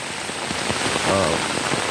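Rain falls steadily on a wet day, a close, even patter throughout, with a brief voice partway through.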